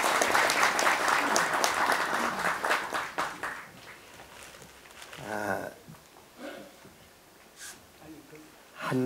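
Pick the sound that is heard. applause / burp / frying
applause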